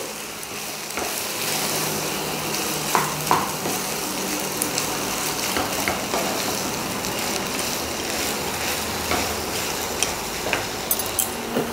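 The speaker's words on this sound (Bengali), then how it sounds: "ভালোভাবে পেঁয়াজ রসুনের সঙ্গে আলুটাকে কষিয়ে নিতে হবে।" Potatoes frying with onion and garlic in a pan, a continuous close sizzle with occasional clinks and scrapes of stirring, moderately loud and steady throughout.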